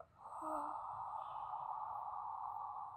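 A long, steady exhale during a yoga stretch for the lower back, one soft, even breath close to the mic that lasts nearly three seconds.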